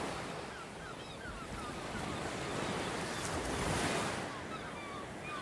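Ocean waves wash steadily onto a beach, a continuous broadband surf roar that swells gently and recedes, with some wind and no voices.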